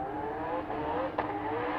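Race car engines at an Australian roll race drone as the cars accelerate, a faint and fairly distant roar with a brief sharper rise near the end.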